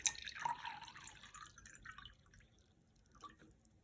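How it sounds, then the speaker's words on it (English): Water poured into a glass cup gives a faint, short splashing trickle that tapers off quickly, heard alone with no voices. "if I pour some water into the cup"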